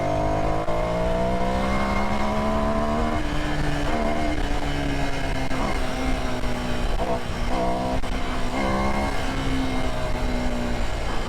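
Ducati Scrambler Sixty2 400cc motorcycle engine under way while riding, a loud, continuous droning hum whose pitch rises and dips as the throttle changes, steady for the whole stretch.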